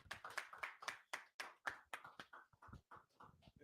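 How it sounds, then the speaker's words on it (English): A group in a Sabbath service claps their hands in a steady, brisk rhythm of roughly a dozen close, distinct claps, faint in level. "Clap it up."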